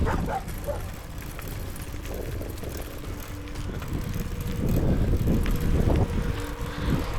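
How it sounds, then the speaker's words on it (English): A dog barks and yips in short bursts while chasing a cyclist on the road, heard over wind noise and the rolling bicycle, with the barks growing louder toward the middle and end. "Dog chasing me here."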